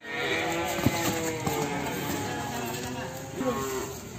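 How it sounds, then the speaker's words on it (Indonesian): Two Simmental bulls low and grunt several times at moderate distance, deep bellowing calls over quiet farmyard background. "ini ada 2 ekor sapi jantan simental"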